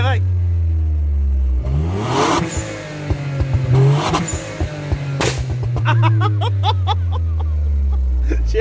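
A tuned VW Up TSI engine revved hard with the microphone low near the exhaust diffuser, loud repeated rising and falling revs punctuated by sharp pops and crackles, with a voice calling out between bursts.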